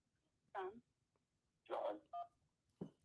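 Telephone touch-tone dialing on a sports call-in radio show before a USC at Kentucky basketball game, heard as a few short bursts of tones separated by brief gaps, fairly faint and clean with no talk over them.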